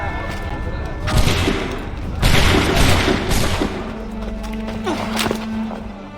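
A musket volley in Assassin's Creed III: a loud, ragged burst of gunfire that booms, followed by another crackling wave of shots and a rumbling echo, with voices shouting around it.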